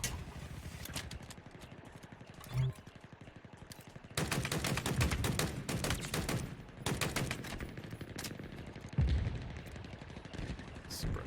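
Heavy, sustained automatic gunfire in the video game Halo Infinite during a Big Team Battle match, with long dense bursts of rapid shots broken by short pauses and an explosion-like thud, loud and continuous.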